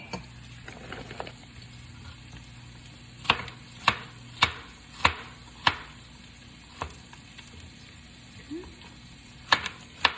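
Onion added to cabbage in a piping hot pan gives a steady low sizzle, broken by several sharp clacks of a utensil stirring and scraping.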